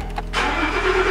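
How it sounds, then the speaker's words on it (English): A Ford Expedition's engine cranks briefly with a short whirring starter, then catches and settles into a loud, steady idle close by. "And now we're gonna start her up."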